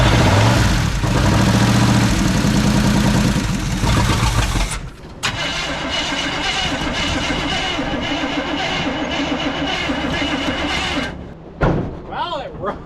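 Old truck abandoned in the woods for over a decade cranks and fires, then runs with a loud, rough, steady engine note for several seconds before cutting out near the end.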